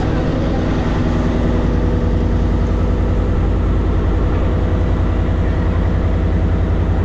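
A new 46-foot boat's V10 engine runs at sea on trial, a loud, steady, close, low droning roar with no break throughout.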